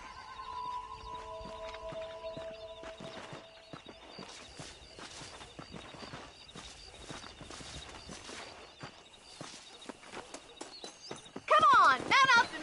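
In Red Dead Redemption, a horse's hooves clop steadily while cattle are herded to pasture, a faint, continuous rhythmic patter under ambient game sound, ending with a brief burst of louder noise.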